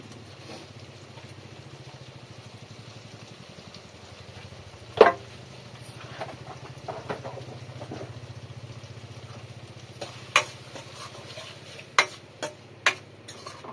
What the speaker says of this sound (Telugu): వీటిని అయితే ఒక 5 నిమిషాల పాటు ఇలా కలుపుకుంటూ మగ్గనిస్తాను